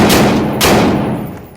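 Gunfire in the VR shooter Tactical Assault: two loud, close shots in quick succession, each trailing off into a broad, lingering rumble.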